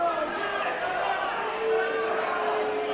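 Boxing event crowd chatter, a steady murmur of many voices filling the venue at moderate level throughout, with a commentator's voice speaking over it.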